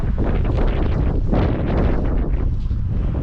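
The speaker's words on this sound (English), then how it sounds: "the wind don't half rush through this canyon." Strong wind rushes through a canyon at an old gold rush town, roaring and buffeting the microphone in a loud, steady, close rush with no pauses.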